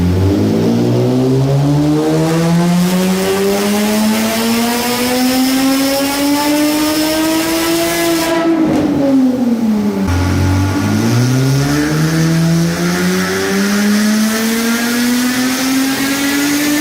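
A Nissan 350Z with a Tomei exhaust revs loudly up close, the engine pitch climbing steadily, dropping off sharply, then rising again, with no one speaking.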